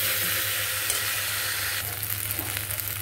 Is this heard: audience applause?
no